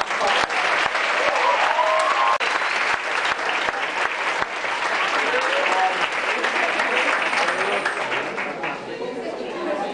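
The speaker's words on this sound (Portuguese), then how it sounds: "Uma salva de palmas." Audience applause after a university lecture, a full room clapping steadily for about ten seconds with a few sharper individual claps and murmured voices underneath, fading slightly toward the end.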